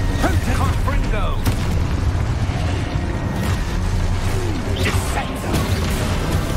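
Confringo fire spell blasts from the Hogwarts Legacy video game, with dense booming, crashing impacts layered over steady game music and effects throughout, loud and continuous.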